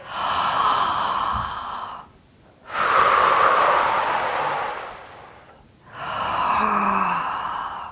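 Deep, slow breaths during a pelvic floor and diaphragm exercise, three long airy breaths of several seconds each, separated by short pauses, close to the microphone and with no talk over them.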